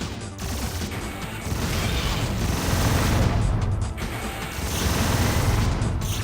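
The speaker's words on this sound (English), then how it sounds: "Man, I'm having way more fun with this gun than I remember having in the original game." Continuous loud weapon fire and crashing impacts from a gun in the video game Descent 2, a dense, steady barrage lasting throughout with no speech.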